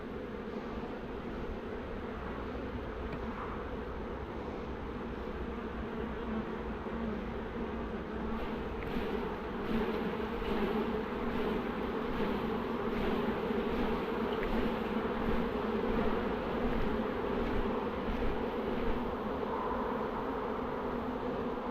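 Honeybees buzz continuously and densely close by while a swarm is transferred into a hive, a steady droning hum that swells slightly in the latter half.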